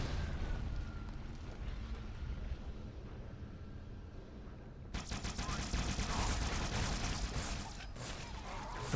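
Grenade explosions in the video game Halo 2, heavy rumbling blasts that swell into a loud, dense roar of debris and combat noise midway through.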